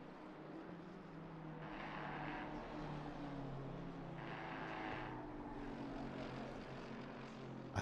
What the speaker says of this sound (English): The AMG with that throaty growl that it gives, and then you've got the Lambo, which is just sort of high pitched, along with the Porsche